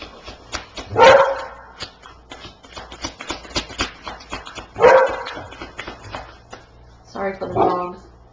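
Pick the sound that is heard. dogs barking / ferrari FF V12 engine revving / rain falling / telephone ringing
dogs barking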